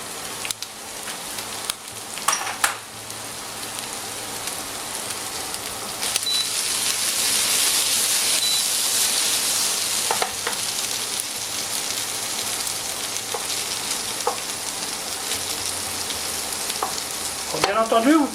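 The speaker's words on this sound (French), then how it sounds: "on laisse le feu bien chaud pour bien saisir les pommes de terre" Potatoes sear in a very hot pan with garlic and herbes de Provence, a steady loud sizzle and crackle that swells after the garlic goes in, with occasional clinks and scrapes of stirring and no talk.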